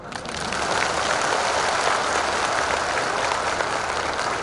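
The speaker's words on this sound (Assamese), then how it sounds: "আপোনালোকে ভালকৈ হাত তালিটো দিয়ক" A large audience at a ceremony where the Chief Minister presents appointment letters to teachers claps steadily and loudly, a dense, continuous applause with no talk over it.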